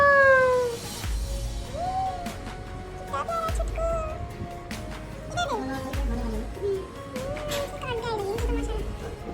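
A house cat meows repeatedly in a home, with several rising and falling cries spread across the moment. Voices talk around the meows, and there are low thumps in the background.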